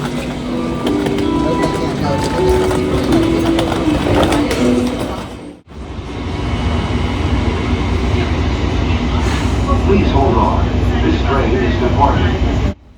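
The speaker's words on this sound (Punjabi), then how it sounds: "ਆ ਗਈ ਹੈ ਮੈਟਰੋ ਇਸ ਦਾ ਸਕਾਈ ਲਿੰਕ" An elevated airport Skylink metro train rumbles and hums steadily as it arrives, with a brief dip midway before the loud rolling drone resumes and then cuts off at the end.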